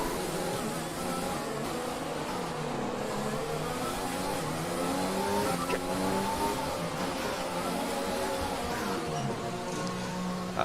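A Formula 1 car's engine in the F1 2020 racing video game whines continuously, its pitch rising and falling as it revs through gear changes, with faint tire noise beneath.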